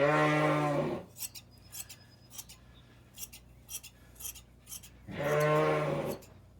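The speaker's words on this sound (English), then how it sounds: "they specifically only shear sheep with these hand shears" Manual hand shears shearing a sheep at a ranch historic site, giving a series of short, crisp metallic snips in irregular rhythm. A sheep bleats loudly at the start and again near the end.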